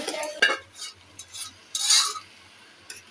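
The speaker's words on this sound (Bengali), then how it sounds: "এখন আমি মুরগিটা দিয়ে দেবো।" Chicken being added to rice frying in a pot for chicken biryani, close scraping and stirring with bursts of sizzle and a few utensil clinks, spaced irregularly with pauses between, no talk.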